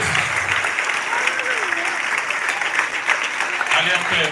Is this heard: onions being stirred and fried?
no